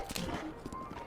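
Horse hooves clip-clopping in The Legend of Zelda: Breath of the Wild, crossing Central Hyrule; a rapid, fairly steady run of hoofbeats at moderate level, brief and alone.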